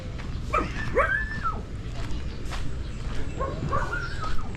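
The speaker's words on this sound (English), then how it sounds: "Dog started barking, but he didn't want to wake up." A dog in a Philippine neighbourhood gives a few yipping, whimpering barks in two short bursts, fairly close against outdoor background noise.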